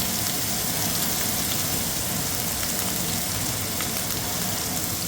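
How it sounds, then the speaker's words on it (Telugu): Chopped onions frying in a hot pan for chilli chicken, a loud, steady, dense sizzle and crackle that continues without pause and without speech. "కట్ చేసుకున్న ఆనియన్స్ వేసి నేను చిన్న రెడ్డిష్ వరకు ఫ్రై చేస్తానండి"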